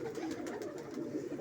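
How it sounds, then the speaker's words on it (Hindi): Sialkoti high flyer pigeons coo softly and repeatedly in a short, close burst, low murmuring calls running together without speech. "ये देखें, बंद दुम के कबूतर"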